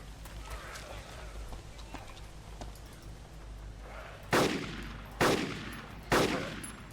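Three loud gunshots ring out in Arma 2's DayZ mod, spaced about a second apart near the end, each a sharp crack with a short echoing tail over quiet game ambience.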